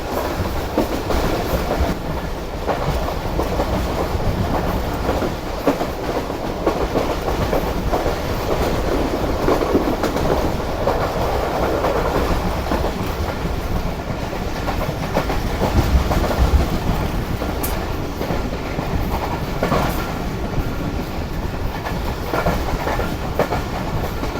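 Jaffer Express passenger train hauled by a Chinese locomotive, running at speed toward Lahore after Kharian, with steady loud rail rumble and rhythmic clickety-clack of wheels over joints throughout, no voices.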